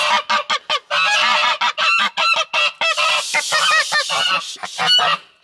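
Geese honking loudly around a goose setting on her nest of eggs, a dense run of repeated nasal honks in quick overlapping bursts, close by and continuous with no talking.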